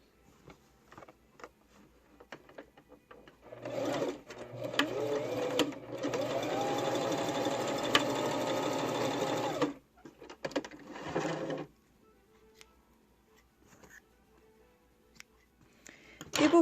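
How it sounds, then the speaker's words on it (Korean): A sewing machine stitches a seam on a handmade wallet-style pouch: a close, steady whirring run of about six seconds, then a brief second burst, with soft handling clicks around it. "박음질 들어갑니다"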